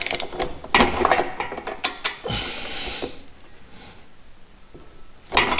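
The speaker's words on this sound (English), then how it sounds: "And as I torque the other one down" A ratchet tightens the rear axle of a 2006 Harley-Davidson Road King during a rear tire change, giving bursts of rapid clicking pawl strokes and metallic handling noises, close and clear, fading into quieter shop sounds before a final clatter.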